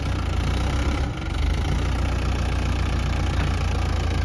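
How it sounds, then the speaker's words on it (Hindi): A Mahindra tractor's engine runs at a steady, loud drone close by, working to climb out while stuck, with one brief dip in the noise partway through. "चल रहा है, चल रहा है ट्रैक्टर,"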